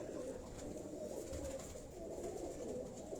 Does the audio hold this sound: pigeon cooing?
yes